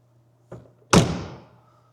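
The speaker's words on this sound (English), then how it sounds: "Door sure shuts nicely though." A car door on a 1971 Mercedes-Benz 300 SEL 3.5 swings shut with a faint click and then a single solid, close thunk that fades quickly, with no talking.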